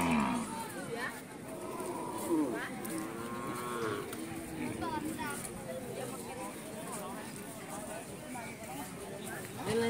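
Cattle lowing at a busy rural livestock market, several drawn-out moos from cows and bulls rising over crowd chatter and nearby talk.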